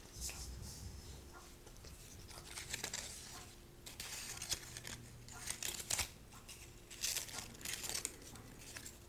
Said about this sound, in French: J'attrape le petit bout de papier.